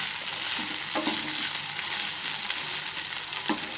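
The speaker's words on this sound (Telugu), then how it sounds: "ఆల్మోస్ట్ ఆలు వేగింది ఉడకలేదు" Thick potato slices for an aloo methi dish sizzle steadily in a hot pan, with a few sharp clinks and scrapes as they are stirred, close and continuous.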